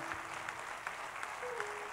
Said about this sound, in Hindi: जोरदार तालियों से अभिनंदन श्यामराज जी का